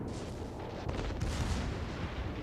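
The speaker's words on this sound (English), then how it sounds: "the secondaries are going to light up this guy as well" Secondary guns on a warship in World of Warships fire in a rapid, steady barrage of booming reports, sustained and fairly distant throughout.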